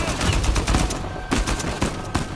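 Gunshots in Uncharted 4 crack in quick bursts, with a loud flurry of rapid shots, a short pause and then a few more sharp reports.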